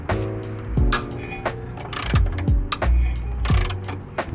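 A half-inch ratchet turns a rusted motor mount nut, giving a close series of sharp metallic clicks and clanks in uneven bursts, with no talking.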